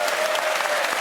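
Studio audience applause on a British comedy panel show, a dense, steady wash of clapping sustained for about a second at even loudness.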